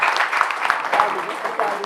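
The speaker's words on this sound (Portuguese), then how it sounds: "Uma salva de palmas pela colaboração deles." An audience applauds at a talk, a dense, steady patter of clapping from many hands with voices mixed in.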